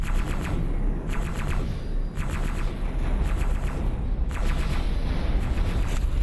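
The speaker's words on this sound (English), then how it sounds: "just keep a look at the damage we're doing with pulse weapons" Pulse weapons firing in the X4 space game, a dense continuous barrage of rapid energy shots with repeated bursts and booming impacts throughout, loud and steady.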